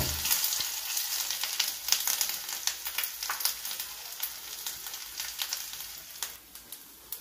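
Urad dal, mustard seeds, chana dal and cumin sizzle and crackle steadily in hot oil for a Telugu majjiga charu tempering, a close, continuous frying hiss with small pops and no talk.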